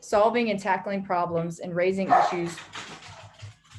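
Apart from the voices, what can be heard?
dogs barking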